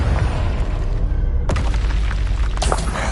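Confringo fire spell in the game Hogwarts Legacy, a heavy booming explosion with a sharp burst midway, followed by a crackling rumble, loud and close over constant low game noise.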